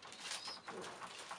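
Soft, repeated cooing of pigeons as they feed their chicks, close by and continuous, with faint rustling beneath the low murmuring calls.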